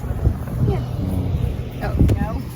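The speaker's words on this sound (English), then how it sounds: "Man, that wind is horrible." Strong outdoor wind buffets the microphone with low, gusting rumbles that swell and fade over a few seconds, mixed with faint voices nearby.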